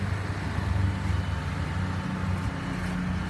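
A 2014 Nissan Versa Note with a bad transmission runs steadily nearby, its engine giving a low, even hum and rumble at the front end of the car. The sound stays constant throughout, with no talking.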